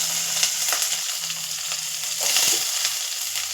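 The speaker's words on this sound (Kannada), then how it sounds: "ಎಣ್ಣೆ ಕಾದಿದೆ. ಅದಕ್ಕೆ ಸಣ್ಣದಾಗಿ ಹಚ್ಕೊಂಡಿರೋ ಬೆಳ್ಳುಳ್ಳಿ, ಕ್ಯಾಪ್ಸಿಕಮ್ಮು" Finely chopped garlic and capsicum sizzle in hot oil in a pan for a spicy baby corn manchurian, a close, steady crackling fry with small bursts of spatter and no talking.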